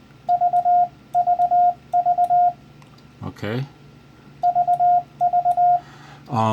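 A ham radio keyer set to 20 wpm sends the Morse letter V as a clean, steady tone, three short beeps and one long, repeated five times, with a short spoken word and a rustle in the pause between groups.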